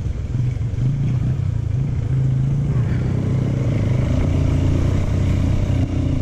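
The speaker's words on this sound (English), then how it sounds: "a little bike like this is the best way to get around over here" A small motorbike rides along an unpaved road in rural Colombia near the Palomino River, its engine droning steadily and close throughout, with rattling and clatter from the rough surface.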